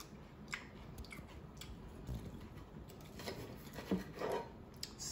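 Crisp chewing of hot, freshly fried chicken with a crunchy corn flake crumb coating, close and quiet, with soft bites and crunches scattered through a few seconds and no talking.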